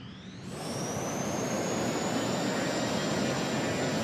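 The simulated Pratt & Whitney J42 turbojet of a Grumman F9F Panther in Flight Simulator X spools up, a loud roar building within a second beneath a high whine that climbs and then holds steady, with no voices.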